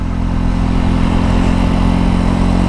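A Triumph Scrambler 400 X motorcycle pulls hard in third gear from about 40 mph on the M5 motorway. Its engine drones loud and close, steady and uninterrupted, with no talking.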